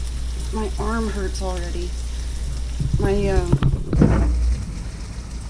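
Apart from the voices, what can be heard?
stirring food in a pot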